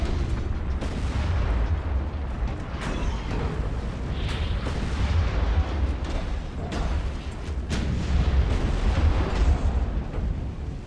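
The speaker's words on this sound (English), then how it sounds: "Ammo detonation." A ship's ammunition detonation in the naval game Ultimate Admiral: Dreadnoughts, a loud, sustained rumbling roar with crackling bursts and creaking mechanical noise throughout, dense and continuous with no voices.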